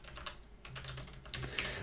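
Fast typing on a computer keyboard while searching for Atmel AVR in a software installer, a quiet run of close, uneven key clicks and clatter with no talk.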